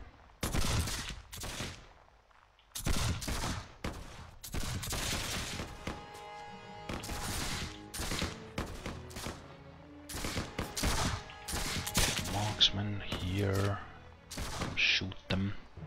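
Musket volleys in the video game Mount & Blade With Fire & Sword, several loud crashing bursts separated by brief pauses, with a voice talking between them.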